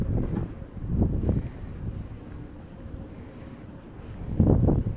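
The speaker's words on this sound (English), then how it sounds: "It's a little bit windy up here" Wind buffets the open front deck of the Silver Nova cruise ship in Alaska, low rumbling gusts swelling and fading against the microphone, loudest near the start and end.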